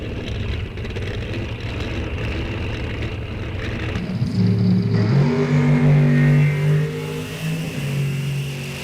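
Drag racing cars launch down the strip, a Wheelie Poppin' Cavalier and a Shake and Bake Camaro, their engines roaring steadily and then rising to a loud, close, high-revving wail as they accelerate away.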